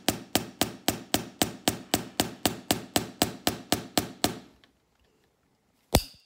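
Hammering during shoemaking, about seventeen sharp, evenly spaced close blows in quick succession, then a pause of near silence before one last louder knock.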